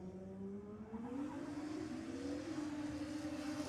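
A Toyota Mark IV Supra with a 2JZ engine and a VL Commodore with an RB engine drag racing, a faint distant engine note climbing steadily in pitch as they accelerate away.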